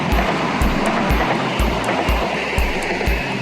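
A train passing beside the Sturt River bike path on an Adelaide to Marino Rocks cycling route, heard as a steady broad rumble with regular rhythmic thumps of wheels over rail joints, fairly loud and close, mixed with wind noise.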